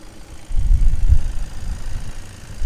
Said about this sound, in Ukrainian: Гляньте, як працює двигун, тихесенько, ніяких лишніх звуків